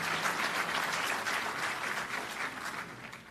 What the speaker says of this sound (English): it's okay to applaud anytime you want.